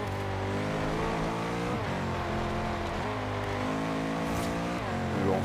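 Bugatti Veyron engine in the racing video game Forza Horizon 2, a loud, steady close-up roar that climbs in pitch and drops back at several gear shifts.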